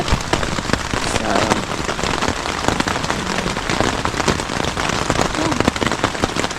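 Rain drumming on a camping tent at a Cumberland Island campsite, dense rapid patter of drops, loud and close, continuous with scattered sharper taps.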